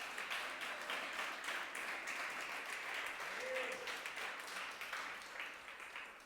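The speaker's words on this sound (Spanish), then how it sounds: "Dele un aplauso al Señor" A church congregation applauding, a steady wash of clapping from many hands spread through the room, fairly distant and even throughout, with no talk over it.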